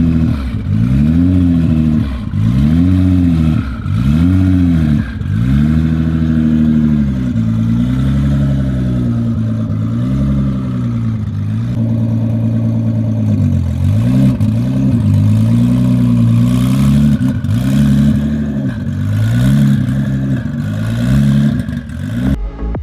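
A 1,500 horsepower Nissan GT-R with upgraded turbos, 3.5-inch downpipes and a 4-inch exhaust revs repeatedly up close, loud rising and falling blips settling into a rough, burbling idle between pulls.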